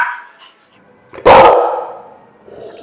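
A pet dog gives one loud, close bark after a couple of fainter yips and whines, then goes quiet.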